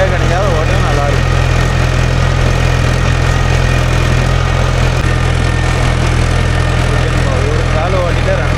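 A Mahindra tractor engine drones steadily and loudly throughout while plowing with a spring cultivator, a constant low rumble without pause.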